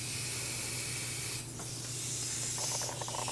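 Soft continuous hiss of an airbrush spraying paint onto a 1/4 scale Deadpool figure, with a low steady hum underneath and a brief pause and change partway through.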